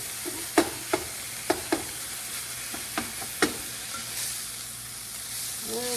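Garlic and sage fry in a pan with a soft, close sizzle, punctuated by several sharp clacks and scrapes of stirring over a few seconds.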